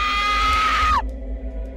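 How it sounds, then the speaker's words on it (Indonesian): A drawn-out human scream wails in the background of the horror video game Sad Satan, a steady high cry that bends downward and cuts off, leaving a low droning hum. "Kalian kalau dengar back sound-nya itu ada orang teriak-teriak, guys."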